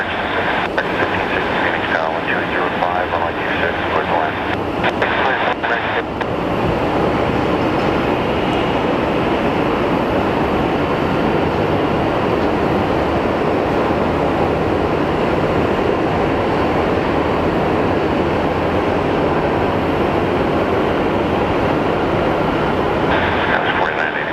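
A Boeing 777's jet engines run at Sky Harbor Airport, a broad, steady roar with a high whine, loud and continuous, while people talk and radio chatter is heard.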